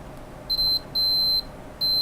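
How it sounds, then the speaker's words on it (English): A multimeter's continuity tone sounds while testing a fuse: three loud, steady high beeps of varying length, separated by short gaps, over a faint background hiss. "if I touch the tips of the pliers, you get tone because it's the metal's got continuity"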